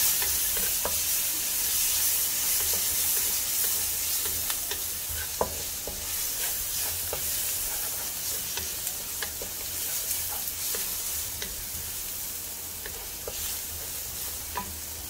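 Ginger garlic paste frying in a pan for a mutton bone curry, sizzling steadily while a spoon stirs it, with scattered scraping clicks against the pan over a constant hiss.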